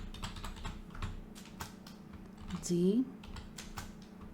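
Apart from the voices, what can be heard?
typing on a computer keyboard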